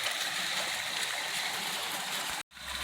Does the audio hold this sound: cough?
no